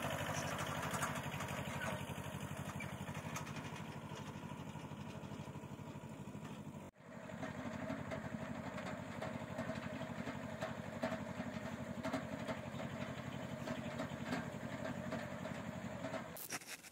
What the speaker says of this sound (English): This is our trusty farm tractor.